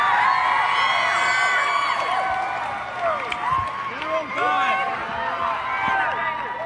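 A crowd of kids cheers and yells in an audience, dense overlapping shrieks and whoops, loud and continuous, with talk mixed in.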